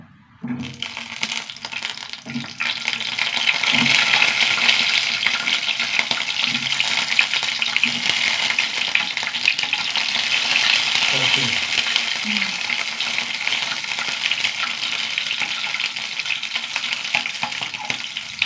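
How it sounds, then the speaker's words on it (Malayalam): Eggs frying in coconut oil in a hot pan, a steady loud sizzle rising after a few scattered knocks and clinks at the start, continuing evenly to the end. "മുട്ടയൊന്ന് ചൂടാക്കി എടുക്കാം"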